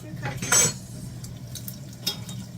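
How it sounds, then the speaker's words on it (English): Tomato sauce for homemade sloppy joes is stirred in a pan over bell peppers, giving a few soft scraping strokes and a brief louder clatter near the start, with a faint sizzle underneath. "Give that a little stir"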